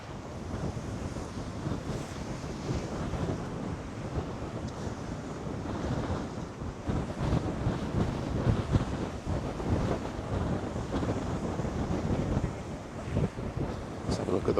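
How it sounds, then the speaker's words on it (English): Rough surf driven by strong trade winds breaks on the shore at Costa Teguise, Lanzarote, at dawn: a continuous roar of waves with heavy wind buffeting the microphone, loud and steady throughout. "That wind is certainly pushing the surf and the waves up on the shore here."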